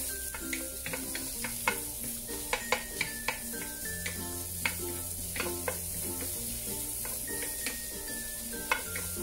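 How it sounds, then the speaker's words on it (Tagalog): Garlic, onion and ginger sizzle in a hot pan for beef broccoli, a steady close frying hiss with occasional sharp clicks of a utensil stirring against the pan. "Igisa lang natin yung ating bawang, sibuyas at luya."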